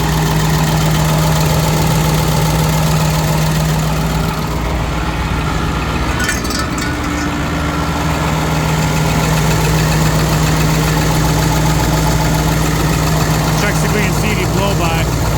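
A 2005 International 7.3 T444e diesel engine idles steadily, a loud, close, rumbling clatter with a constant low drone and light knocking, while someone talks over it.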